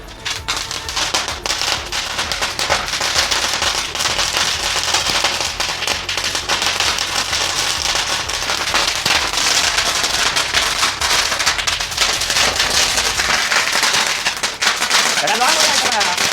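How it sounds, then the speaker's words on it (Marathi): Firecrackers set off for Diwali crackle in a long, dense rapid-fire string of sharp pops, loud and close and continuous for well over ten seconds, with voices in the background. "आता बघूया थोडेसे फटाके चालू करूया आपण इकडे"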